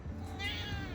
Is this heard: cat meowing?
yes